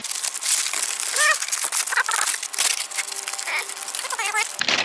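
Crinkling and crushing of wrapping being pulled off a cooked iguana, close and continuous with a few sharper crackles, while a person talks over it.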